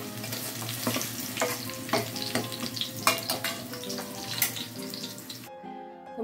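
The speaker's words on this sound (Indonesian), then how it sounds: "Kita goreng sampai layu." Spice ingredients fry in a pan until wilted, a continuous close sizzle broken by regular scraping stirs, with a faint steady hum behind it.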